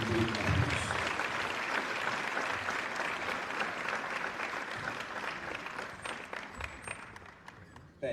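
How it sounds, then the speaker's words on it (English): Audience applause at a formal tripartite electoral-system meeting in Sierra Leone, welcoming the Chief Minister; broad, steady clapping from a crowd that holds for about eight seconds and tapers slightly toward the end. "Let's give him a big applause."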